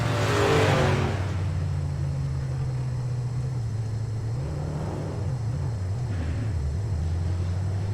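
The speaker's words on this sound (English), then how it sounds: "As he comes to the start-finish line, he's going to burn it down here at Auto Club." Race truck, the number 18 Navy Chevrolet, doing a burnout at Auto Club Speedway: a loud burst of tire roar at the start, then a sustained engine drone with wavering revs and a steady rumble.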